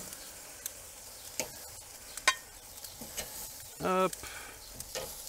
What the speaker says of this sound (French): En fin de cuisson, je les ai remis sur les braises rapidement afin de saisir la peau.